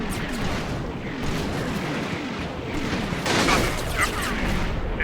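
A World War II artillery barrage in the strategy game Combat Mission, with dense, continuous rumbling explosions and overlapping booms that swell louder near the end, filling the whole stretch.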